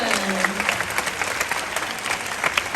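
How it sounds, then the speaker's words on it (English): A crowd claps steadily at a parrot show at a bird park in Singapore, a dense, continuous round of applause filling the space. "Can we give Quincy a big hand, ladies and gentlemen?"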